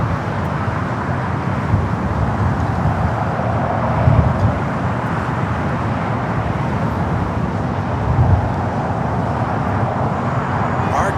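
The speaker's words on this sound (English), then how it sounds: "Arrival here on the south side, Air China Cargo, flight 1010, coming from Mexico City" An Air China Cargo Boeing 777 freighter arriving at LAX, a continuous broad jet roar mixed with distant traffic and wind, with two brief low swells.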